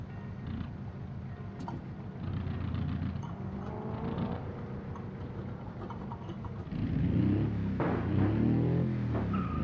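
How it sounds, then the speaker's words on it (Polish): Small Autobello Piccolina car driving, a low steady engine drone with shifting rumble and a rise in revs toward the end, heard from inside the cabin with faint clicks and knocks. "zamknijmy klapę i cieszmy się rozkoszną jazdą tym samochodem"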